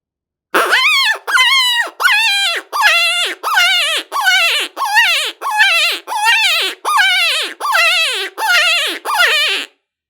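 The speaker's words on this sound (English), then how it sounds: "the howls and coyote vocalizations that you can make with the rope are more of a female type sound" An open-reed predator call sounds a series of about twelve short, evenly spaced coyote-like yips and whines, each rising then falling in pitch, loud and close with brief silences between.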